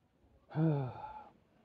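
Pregnant animal close to giving birth for the first time, breathing hard: a single close, breathy exhale with a voiced, groaning tone, lasting under a second in a quiet setting.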